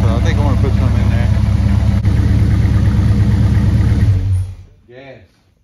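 A 1969 Dodge Super Bee with a 440 Six Pack V8 idles loud and close with a steady, lumpy rumble for about four seconds, then cuts off, leaving a brief faint tail of sound.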